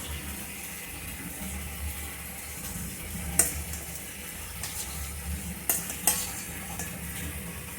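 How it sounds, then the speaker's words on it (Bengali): Chicken and taro stirring in a frying pan as they cook down, a soft continuous sizzle with occasional sharp scrapes and knocks of the spoon against the pan, fairly quiet and close. "কচুটার সাথে মাংসটাকে আরও 10-15 মিনিটের মতো কষিয়ে নেব"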